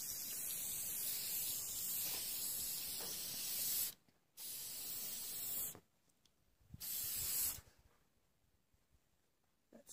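Spray varnish hissing from an aerosol can onto a painting, close and loud in three sustained bursts separated by short silent gaps, with no talking.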